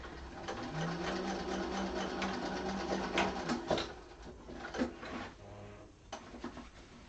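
A sewing machine stitching fabric runs in a close, rapid mechanical whir at first, then slows into intermittent short bursts and clicks as the material is guided by hand, with no talking.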